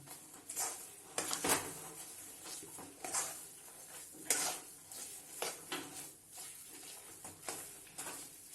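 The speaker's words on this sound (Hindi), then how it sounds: "इसको भी हम इसको डालकर अच्छे से भून लेंगे ताकि हमारा खोवा भी इसमें अच्छी तरीके से पक जाए।" Khoya is stir-fried into moong dal halwa with a continuous soft sizzle, the spatula scraping and knocking against the pan in an uneven rhythm, close up with no talk.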